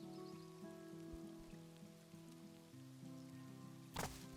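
Rain falling in the Cropdeck farming game, a steady soft patter running under layered game music, with a brief louder splash burst near the end.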